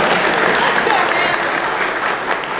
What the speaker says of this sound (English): Let's give Nims a clap too